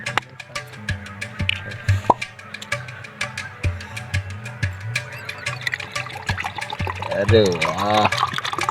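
Country liquor glugs and splashes into a glass in bursts, with loud people talking over the pouring and a rising fill sound near the end.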